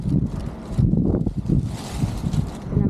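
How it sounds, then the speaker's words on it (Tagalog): Strong wind gusts buffet the microphone at sea during a fishing trip, a rough, low roar that surges and fades in uneven waves, with faint boat and water noise underneath. "Mahangin."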